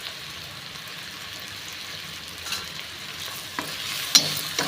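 Turmeric and coriander powder being stirred into a hot pan while making a tur dal usal, a soft scraping stir over a faint steady sizzle, with a few sharper spoon knocks near the end.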